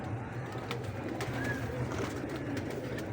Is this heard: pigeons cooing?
yes